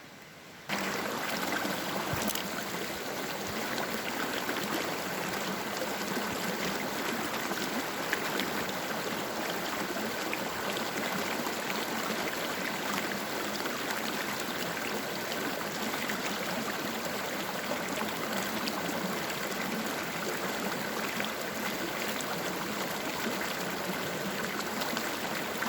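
Steady rushing of creek water over rocks, constant and close, with no voices.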